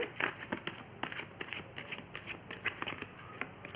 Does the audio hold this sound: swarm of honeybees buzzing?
no